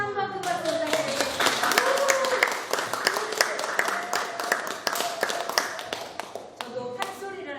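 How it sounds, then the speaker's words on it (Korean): Audience applause at a youth book concert in Haenam, steady close clapping with distinct sharp hand claps throughout while a voice talks over it. "수고해주신 분들 다시 한번 큰 박수 부탁드리겠습니다"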